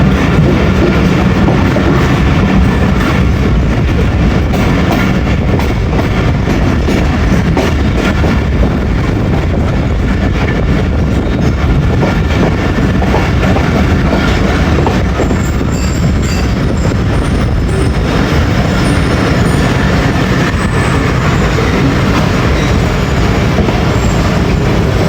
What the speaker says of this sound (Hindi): जी बड़ी स्पीड में आ रही है जी GU40 के साथ ट्रेन।